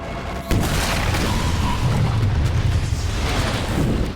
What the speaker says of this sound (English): the bomb killed Julia and others